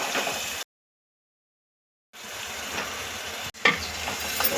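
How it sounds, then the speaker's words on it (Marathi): Cooked mutton in masala sizzles and hisses in a clay pot as it is stir-fried, a steady frying noise cut off by a silent gap and then resuming, with scraping stirs near the end. "आता आपण हे जे मटण टाकले ते मसाल्यांमध्ये व्यवस्थित परतून घेऊया"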